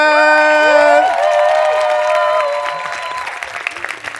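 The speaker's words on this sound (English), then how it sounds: "definitely keep that applause going for" A crowd at a Eurovision press conference breaks into loud, sustained applause and cheering for Poland, dense clapping filling the room for several seconds before gradually thinning out, with tones and voices mixed in.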